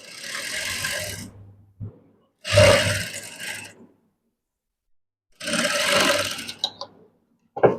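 A sewing machine stitching a colored blouse runs in three separate bursts of whirring, rattling mechanism, each lasting about a second or more, with silent pauses between them.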